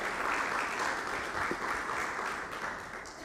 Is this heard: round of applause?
yes